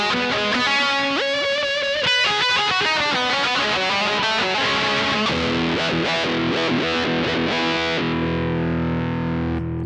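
An electric guitar runs through a pedalboard with a boosted tweed-style amp tone, playing loud, gritty distorted riffs and chords that ring on continuously with no talking.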